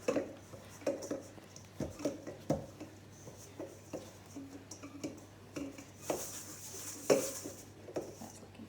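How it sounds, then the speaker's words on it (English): Bread dough for pizza is scraped off the sides and bottom of a bowl, giving soft irregular scrapes, taps and squishy knocks, close and quiet, with no talking. "Scrape all those bits off the side and off the bottom."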